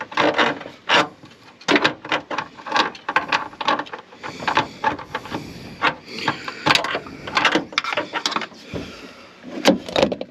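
A magnet tool scrapes and clatters against metal parts of a 1990 Ford Bronco while fishing for a dropped socket, with irregular close rubbing and clinking bursts throughout.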